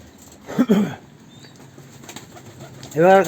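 Pigeons coo in low throaty bursts close by in a coop, with a rustle of movement in between and a louder cooing call at the end.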